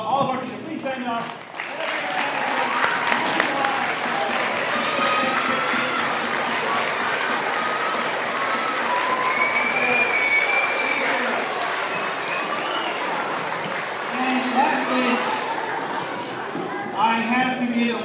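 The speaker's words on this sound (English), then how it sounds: "Let's give it a round big applause." Sustained applause with cheers from an elementary school audience honoring teachers, a loud continuous wash of clapping with voices and shouts rising through it, lasting the whole stretch and swelling again near the end.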